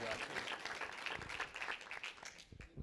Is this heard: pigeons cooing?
no